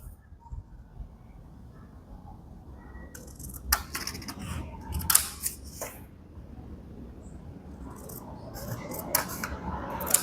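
Scissors snipping paper shapes for a children's maths activity, with scattered crisp cuts and clusters of snips over a quiet room background. No one speaks.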